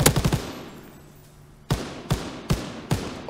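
Call of Duty light machine gun fire: a quick burst of rapid shots, a pause, then four evenly spaced sharp single reports, close and loud.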